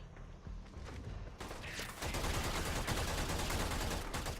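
Braton Prime rifle firing in Warframe, rapid bursts of automatic shots that grow louder and denser, sustained and close with no talking.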